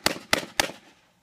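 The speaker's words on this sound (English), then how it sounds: "let's see if it will just fire from inside the bag continuously, even with stuff in there" Three sharp gunshots from a Ruger SR22 pistol fired from inside a bag, evenly spaced about a quarter second apart, each loud and crisp with a short decaying tail, no talking.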